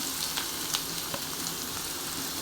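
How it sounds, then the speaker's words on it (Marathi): Onion sizzles and fries in a hot pan with oil and green chilies while cooking Konkani-style methi bhaji, a soft steady hiss with faint stirring clicks, close but quiet. "आता याच्यामध्ये कांदा टाकून घेणार आहे"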